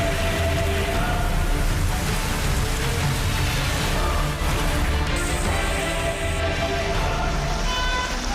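Heavy monsoon rain pouring in India, a dense, constant hiss of downpour on surfaces that stays loud and unbroken from start to finish.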